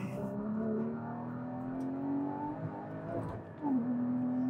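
Porsche Cayman GT4 engine pulling hard under acceleration, a steady rising drone with a brief dip near the end before it surges again, loud and close from inside the car.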